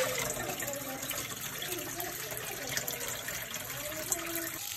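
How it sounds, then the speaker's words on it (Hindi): Fresh water gushes steadily from a pipe into an emptied tank or basin in hot weather, a constant splashing flow with no talking. "माशाल्लाह जी नया पानी जो है वो आना शुरू हो चुका है।"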